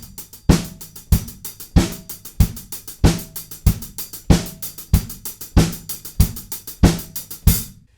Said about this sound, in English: the first groove that we're going to look at is a 16th note groove,